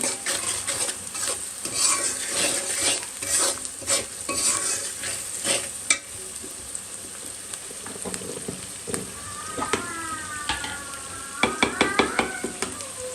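Whole spices like cardamom and cinnamon fry in a pan while being stirred, with repeated scraping and clinking of the spoon against metal over a steady sizzle, close up, with brief higher squeaks toward the end.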